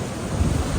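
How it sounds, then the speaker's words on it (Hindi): Cold wind blowing outdoors in Gilgit, a loud, blustery rush with low buffeting against the microphone, continuous across the short moment. "बहुत ठंडी हवा चल रही है"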